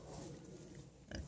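A pig with a hernia gives a short, low grunt near the end of a faint, quiet stretch of background noise.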